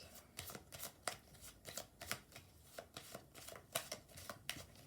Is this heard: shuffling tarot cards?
yes